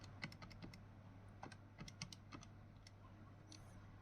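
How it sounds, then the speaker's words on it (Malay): Calculator keys pressed in a series of short, light clicks in an uneven rhythm, close and fairly quiet over a steady low hum, worked through a sales price calculation in a maths lesson. "Jadi kita tekan kalkulator."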